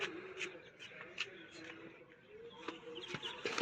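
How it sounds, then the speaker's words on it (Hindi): Birds chirp and call in short, scattered bursts, moderately close, in a forest near a Kali temple, over a steady outdoor hum with no clear talking. "पक्षियों की सुनाई दे रही है।"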